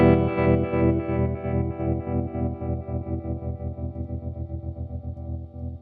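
An electric guitar chord runs through a Walrus Audio Monumental analog tremolo pedal, its volume pulsing in a fast, even throb that slowly decays over several seconds with no talking.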